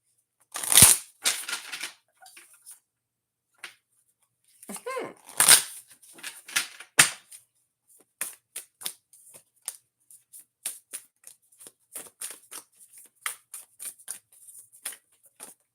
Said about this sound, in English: I'll be shuffling these cards